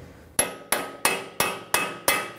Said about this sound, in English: let's get a center punch and hammer it out